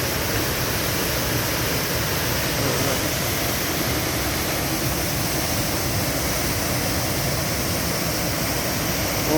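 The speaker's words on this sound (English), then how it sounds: "Look at that waterfall here." A steady, dense rush of water falling at Qualicum Falls fills the air continuously, loud and broadband with no pauses.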